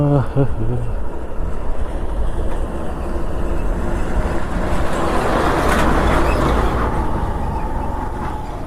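A lorry rolls past close by on a rough rural road lined with fields, heard from a moving motorbike: loud engine and road roar that builds toward the middle and eases slightly at the end.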